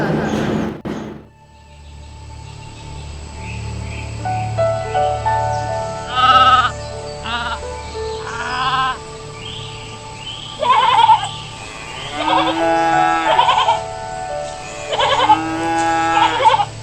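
Loud, close sheep bleats sound repeatedly during a Christmas play at a college, several drawn-out calls over a low hum, with a brief knock at the start.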